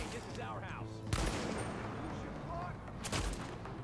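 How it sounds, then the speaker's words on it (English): Gunfire in the video game The Division, with a sniper firing: sharp shots and bursts crack over game ambience, loud and close, while a person talks over it. "I am getting shot pretty heavily right now."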